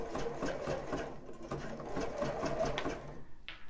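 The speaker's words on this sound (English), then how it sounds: "sew over the join and carry on to the end." A sewing machine stitches bra band elastic, sewing over the join: a close, continuous mechanical whir with a fast rhythmic chatter that runs unbroken for a few seconds.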